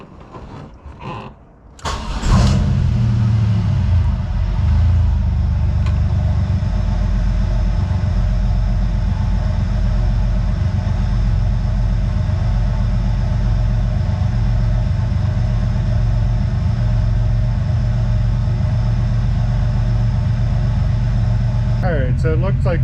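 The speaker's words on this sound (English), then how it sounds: "and then we'll start the car" A car engine cranks and catches, then settles into a steady, loud idle rumble that runs on unbroken to the end, with a brief mechanical sound near the close.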